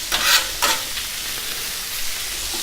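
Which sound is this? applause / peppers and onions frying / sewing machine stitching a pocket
peppers and onions frying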